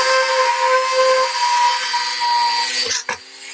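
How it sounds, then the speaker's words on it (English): A small Dremel rotary tool whines at a high steady pitch while grinding into material, then two brief sharp bursts as it cuts through. "So I'm going to take my Dremel."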